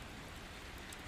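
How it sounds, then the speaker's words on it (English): Steady rain falling against window glass, a soft continuous shush with faint scattered drop ticks, even and close throughout, no voices. "The rain continued its endless descent"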